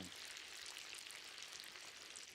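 Meat sizzles in a pan while a Crimean Tatar shepherd's soup, choban shorbasy, is being cooked, giving a soft, steady frying hiss that stays quiet and even throughout, with no talking.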